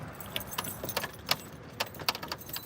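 Keys jangle in short, quiet bursts of metallic clinks as someone tries a key that turns out to be the wrong one, with low traffic rumble behind and no speech.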